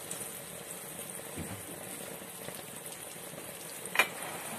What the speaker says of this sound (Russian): Жарится на сковородочке.